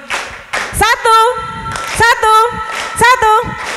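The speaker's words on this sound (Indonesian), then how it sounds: "Tepuk tangan untuk kita semuanya." A group claps hands together during a learning session at Museum Penataran, with short bursts of claps mixed into loud group chanting and singing voices.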